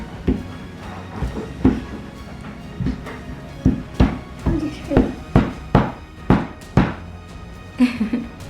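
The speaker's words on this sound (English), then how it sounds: "I might even go get a hammer to give it a little tap." A hammer taps on a toy dinosaur dig kit block, giving a run of sharp knocking thunks. They start irregular and settle into a steady, quick series of close taps.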